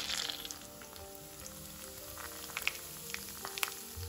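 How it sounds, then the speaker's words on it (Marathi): Fine semolina roasting in ghee in a pan, a faint, soft sizzle with light crackles and a few small ticks toward the end, no talking. "रवा छान भाजून घ्यायचा आहे आपल्याला तुपामध्ये।"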